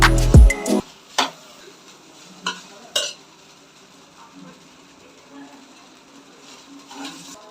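Spatula scraping and stirring egg rice with masala in a pan, a few sharp clatters at the start, then soft intermittent scrapes fading quieter.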